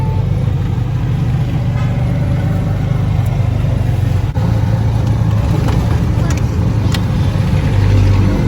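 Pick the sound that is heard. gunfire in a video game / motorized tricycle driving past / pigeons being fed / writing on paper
motorized tricycle driving past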